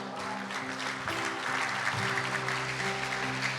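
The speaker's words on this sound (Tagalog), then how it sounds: "Palakpakan po natin ang Panginoon sa kanilang mga buhay." Church congregation clapping during a worship service, a continuous dense applause with a sustained musical tone underneath and little speech.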